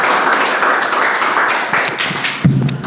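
An audience applauds at an essay-writing exam briefing, a loud burst of dense overlapping hand claps holding steady for a few seconds, ending with a heavier thump.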